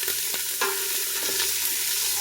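Vegetables are stirred in a pot on medium-high heat for soup: a spoon scrapes and shifts them through a steady hiss of sizzling, close and fairly loud, with no voices.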